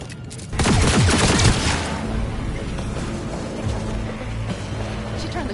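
Gunfire breaks out in Cyberpunk 2077: a burst of rapid shots and a loud boom at the start, followed by a lower rumbling background, with a voice audible beneath.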